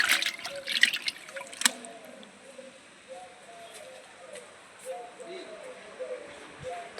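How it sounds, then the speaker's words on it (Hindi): A sari is soaked in water, with close splashing, sloshing and trickling that is strongest at the start and then settles into softer dribbles and drips. A faint voice murmurs in the background. "थोड़ा सा भिगो देती हूँ पानी में ताकि इसका निकल जाए।"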